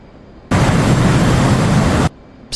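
A bomb dropped from an F/A-18C jet in the DCS flight simulator game explodes in one loud, sudden roaring blast that holds for about a second and a half, then cuts off.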